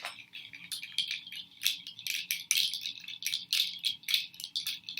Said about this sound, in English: that's the name of that instrument, is a rattle